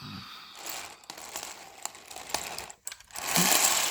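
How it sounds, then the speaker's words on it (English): Close-up plastic clicking and sharp pops from the tracks of a Quan Guan Panzer IV toy brick tank jamming and unjamming, irregular snaps over a busy mechanical rattle, ending in a louder burst. "That's the sound of it getting jammed and unjammed."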